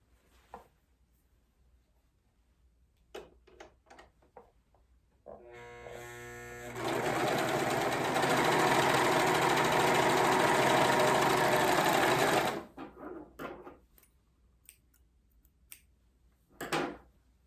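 A serger runs along the long side of a piece of fabric in a steady, loud, buzzing burst of about seven seconds, with quieter clicks and handling sounds before and after.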